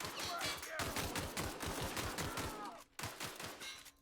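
Rapid bursts of automatic gunfire from The Outer Worlds video game crackle almost continuously, loud and close, with a brief break near the end before the shooting resumes.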